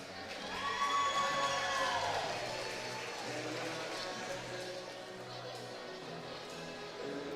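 Crowd noise fills a gym at a high school girls' volleyball game, a loud swell of cheering and shouting early that settles into steady background din for the rest.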